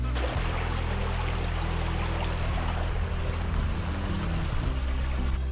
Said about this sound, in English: Nice stand of hemlocks, and the Pleasant Stream is right down there.